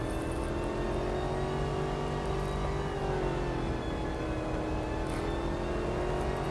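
A Maserati GranTurismo MC Stradale in the Real Racing 3 racing game accelerates hard, its engine holding a loud, high-revving drone with a layered mechanical whine and small pitch shifts as it climbs through the revs. No one talks.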